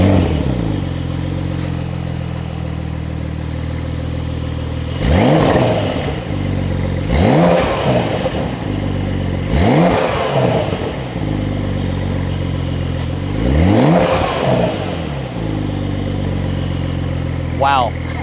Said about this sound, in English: we have the standard active exhaust system